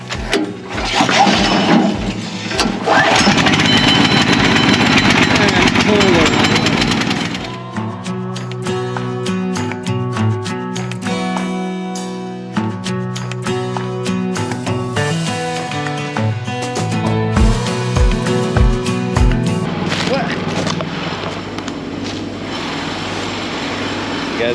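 The small gas engine of a portable lumber sawmill roars close and loud for several seconds, then settles into a steadier droning run before rising again near the end, with occasional voices nearby.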